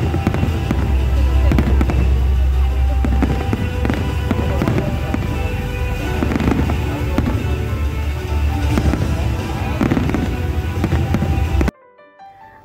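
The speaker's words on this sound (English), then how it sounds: "at 12 you can enjoy a breathtaking view of fireworks" New Year midnight fireworks over Dubai, UAE, crackle and boom in dense, continuous bursts, loud and close for most of the stretch before cutting off abruptly near the end.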